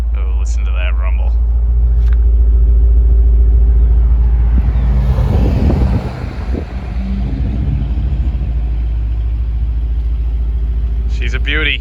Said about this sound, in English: Oh, listen to that rumble.